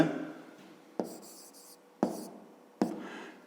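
A pen writes letters on paper while a fifth-grade geometry exercise is being worked, giving four quick scratchy strokes spaced about a second apart, close and fairly quiet with nothing else heard.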